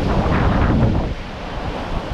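Ocean waves at Drini beach in the late afternoon, a steady broadband wash of surf close by with wind buffeting the microphone, easing slightly partway through.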